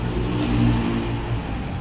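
A Honda Beat 2023 scooter engine fitted with a Challenger CVT setup revs up steadily during an engine test, a close, continuous mid-pitched drone that swells briefly and then settles, with no talking.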